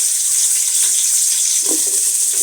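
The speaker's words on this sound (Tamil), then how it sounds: "வெங்காயத்தை போட்டுட்டு நல்லா வதக்கணும்" Onions sizzling in hot oil for chicken biryani: a steady, bright, hissing fry that continues evenly throughout, close and fairly loud, with no talk.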